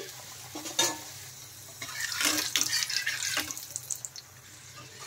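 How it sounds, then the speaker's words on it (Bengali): A vegetarian potato Mughlai paratha made with atta fries in a pan, with a soft sizzle under sharp scraping and stirring bursts that grow busier midway through. "আরো একটা পরোটা আমি ভেজে নিচ্ছি"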